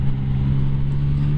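A Yamaha MT-09 motorcycle engine runs with a steady, loud, low drone and an even tone throughout, with no distinct rev blip standing out.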